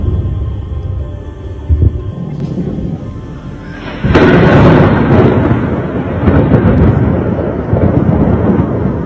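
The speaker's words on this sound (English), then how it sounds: "You can see some of those explosions, those yellow flashes of light." Distant explosions in Ukraine's capital rumble as deep booms, a sudden louder blast midway followed by continuing low thunderous rolling.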